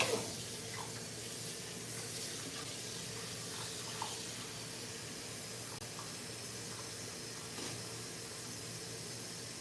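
Tap water runs steadily into a kitchen sink while fresh spinach is washed, a continuous near hiss and splash with light clinks from handling the leaves, and no voices.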